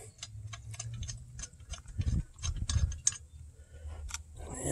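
Spark plug being threaded by hand into the aluminum cylinder head of a Craftsman WS2400 27cc two-cycle weed eater, then snugged, giving soft close ticking and ratcheting clicks with low handling rumble throughout.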